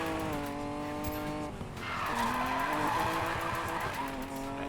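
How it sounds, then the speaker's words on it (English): A racing car in Need for Speed Payback slides sideways through a turn, engine whining at high revs as tires squeal in a loud, sustained screech before the motor pitch steadies again. "See this car coming around that turn sideways?"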